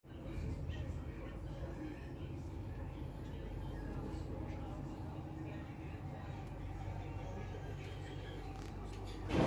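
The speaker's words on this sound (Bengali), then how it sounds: "আমরা এখন মেট্রোতে উঠে বসেছি" Inside a moving metro train, a low, continuous rumble and rolling drone fills the cabin at steady loudness, with faint rattles and muffled voices in the background.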